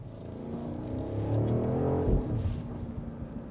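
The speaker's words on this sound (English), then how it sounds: "these burbles here are actually fake. They are all pumped in." Deep rumbling V8 exhaust tone with crackling burbles, artificially pumped in, from a BMW X5 M60i with its 4.4-liter V8, steady and close with a slight swell near the middle, no talk.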